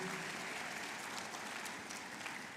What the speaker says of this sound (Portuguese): Aplauda Jesus, aleluia.